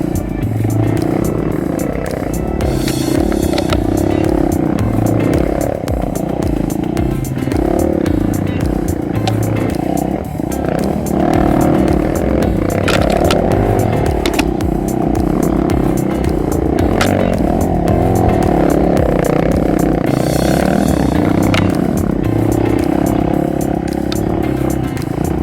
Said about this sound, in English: you're revving it and slipping the clutch to go around the corners there